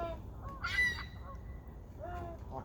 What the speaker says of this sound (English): I don't think the geese have much chance because the seagulls are much faster and they can fly.